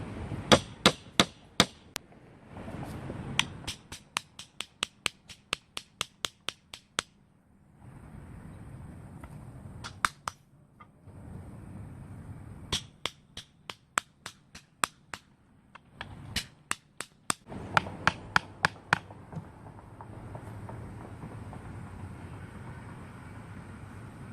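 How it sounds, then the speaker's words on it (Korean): Sharp hammer blows drive nails into a wooden DIY box, coming in quick bursts of rapid, evenly spaced strikes separated by short pauses and faint handling noise, close and fairly loud. "이분을 망치 한번 쳐볼게요."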